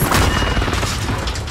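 A rocket explodes in a video game firefight, a loud, dense boom with crashing debris and rumble that fills the whole moment without letting up.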